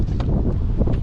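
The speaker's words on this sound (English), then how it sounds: "I know it's windy" Gusty outdoor wind buffets the microphone, a dense low rumble with uneven puffs throughout a brief moment.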